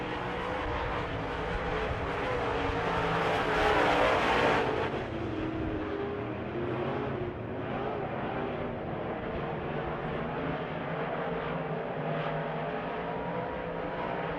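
Race cars circle a dirt oval during a heat race, their engines blending into a sustained distant roar that swells briefly and then settles into a steady drone as the field runs through turns one and two.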